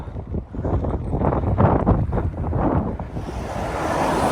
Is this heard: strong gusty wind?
yes